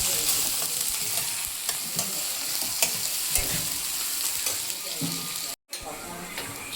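Onions frying in hot oil with asafoetida for a Telugu brinjal and green pea curry, a steady dense sizzle with stirring scrapes throughout and a brief cut near the end.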